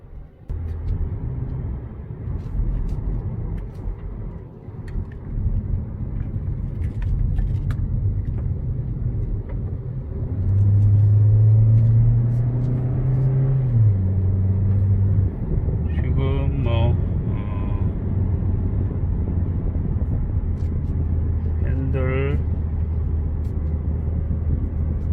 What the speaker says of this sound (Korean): 시운전을 해서 조향 상태 이상이 있는지 한번 주행을 해 보도록 하겠습니다